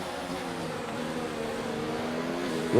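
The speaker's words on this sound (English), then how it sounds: "One too many downshifts there." F1 2019 racing game car engine at Abu Dhabi, a steady droning whine with layered harmonics from the car, ending in a brief sharp burst as it downshifts.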